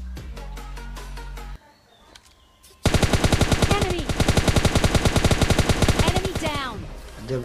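Rapid automatic gunfire in the mobile shooter PUBG Mobile Lite, with M416 and AKM rifles in play, rattles out in long dense bursts after a short quieter gap, loud and close.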